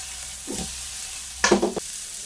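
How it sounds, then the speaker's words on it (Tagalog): Garlic, onion and tomato sautéing in oil in a hot pan for pork sinigang, with a faint steady sizzle and brief scraping bursts from stirring, close and without talk. "Gigisa natin ang bawang, sibuyas at kamatis"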